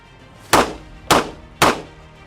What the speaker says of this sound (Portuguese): Os disparos foram lá no alvo.